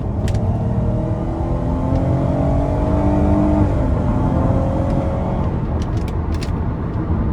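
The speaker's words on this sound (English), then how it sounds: "So I like the engine sound" A 2019 Dodge Grand Caravan's 3.6 V6 revs hard under full throttle, its drone climbing in pitch, then shifting and climbing again, loud and close with steady road noise underneath.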